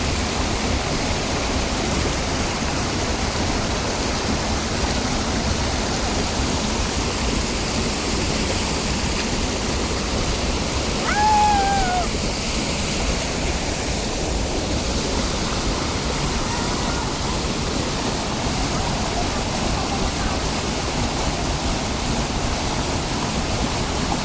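A small waterfall in the natural setting of Kaina gives a steady, continuous rush of falling water that holds even throughout, with no voices over it.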